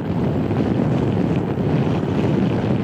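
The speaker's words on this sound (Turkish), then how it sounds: "Şu an çok rüzgar yiyorum." Strong wind roars past a rider on a Honda Forza 250 scooter cruising a highway on a long-distance trip, a dense, constant low rush of air buffeting the microphone with no talk.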